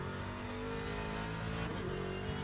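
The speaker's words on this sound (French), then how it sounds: "Le bruit de la Ford Mustang est tellement plaisant" A Ford Mustang GT3 race car engine in the racing game Le Mans Ultimate drones steadily with a rising, revving tone, synthetic and even, with no voices.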